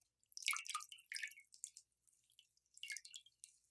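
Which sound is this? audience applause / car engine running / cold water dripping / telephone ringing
cold water dripping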